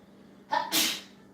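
A single human sneeze indoors during a live tabletop role-playing game session, a short sharp inhale then a bright explosive burst, fairly close and alone without talk.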